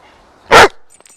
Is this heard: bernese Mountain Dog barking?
yes